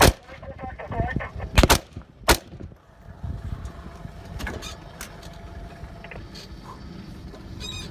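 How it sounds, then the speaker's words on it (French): Warning shots fired from a VBL armoured vehicle in Mali: a few loud, sharp gunshot cracks in the first seconds, followed by engine rumble and faint distant noises. "Le chef de bord du VBL fait des tirs de sommation."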